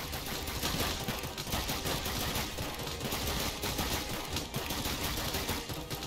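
Rapid continuous automatic gunfire from a Toxic Gunner tower in Roblox Tower Defense Simulator, a dense unbroken rattle filling the whole stretch at steady loudness.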